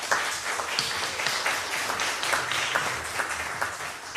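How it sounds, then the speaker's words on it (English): Applause from an audience at an afternoon session, a dense, even patter of many hands clapping, moderately distant and fairly quiet, holding steady throughout with no voices over it. "So let's give Calvin a round of applause"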